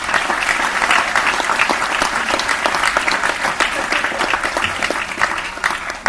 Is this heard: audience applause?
yes